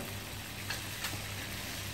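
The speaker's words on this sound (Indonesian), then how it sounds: "saya mau goreng dulu kepala ayamnya" Chicken heads frying in hot oil for a braised soy-sauce dish give a steady close sizzle and crackle, with a couple of brief louder pops, and no talking.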